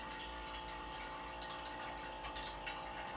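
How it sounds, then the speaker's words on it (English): Filtered water pours steadily into a glass jar for kombucha, a continuous close trickling and splashing with no talk. "I'm gonna fill the jar about halfway or so"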